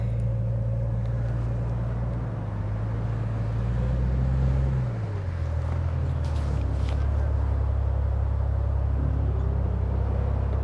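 A Jeep on 32-inch tires crawling over the rocky Rubicon Trail, a close, steady low engine drone with a shift in pitch midway and faint scraping.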